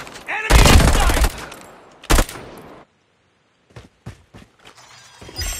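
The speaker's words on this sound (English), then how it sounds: "Sentry gun deployed. Enemy in sight!" Sentry gun in Call of Duty firing at an enemy during a multiplayer match, loud bursts of automatic fire early on, then a quieter stretch with a few sharp isolated shots.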